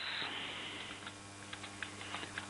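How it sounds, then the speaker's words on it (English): A computer keyboard being typed on while preparing a petty cash report, with light, irregular key clicks coming in short bursts over a faint steady hiss, fairly quiet and close. "I keep typing C's instead of V's."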